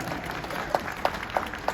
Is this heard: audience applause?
yes